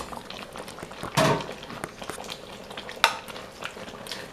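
Sausage drops into a simmering pot of shrimp and sausage Creole, a soft splat and clatter from a utensil against the pot over a low, steady sizzle and bubbling.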